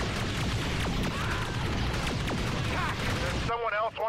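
Troops firing in a Star Wars Empire at War mod battle, a dense crackle of rapid blaster shots and booms, loud and continuous, with game voice lines heard over it near the end.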